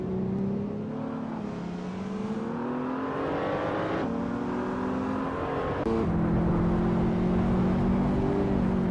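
Several race cars in a racing video game, one a 2003 SEAT Leon Cupra R, roar steadily with layered engine tones rising and shifting through gears, loud and continuous with no talk.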